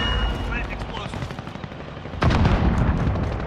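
Gunfire in the Warzone video game on Rebirth Island, a burst of loud shots with a sharp jump in volume partway through, set against steady battle noise and game ambience.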